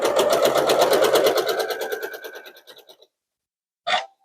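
A sewing machine chain-pieces fabric for a patriotic two-handed pot holder, running steadily and close for about three seconds before fading out, followed by a brief sharp sound.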